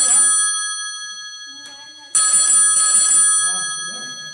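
A mobile phone ringtone chiming in two bursts of high, bright tones, close and fairly loud, with a low voice murmuring faintly underneath.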